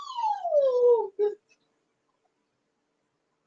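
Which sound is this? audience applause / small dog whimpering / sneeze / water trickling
small dog whimpering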